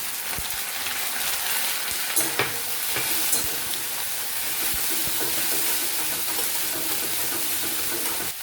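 Garlic, ginger and onion paste frying in hot oil with fried onions for a Bengali crab curry, a loud continuous hissing sizzle close by with occasional stirring scrapes, no talking.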